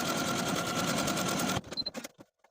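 A home sewing machine stitches buttonholes in fabric for a pair of pants, a fast even mechanical whir that stops about two-thirds through, followed by a few soft clicks and handling noises.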